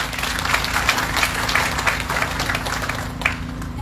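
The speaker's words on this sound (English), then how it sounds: "Could we give them a round of applause?" An audience at a Saiva Sithantha Sungam seaside pilgrimage gathering gives the musicians a round of applause: a sustained wash of many hands clapping under a steady low hum.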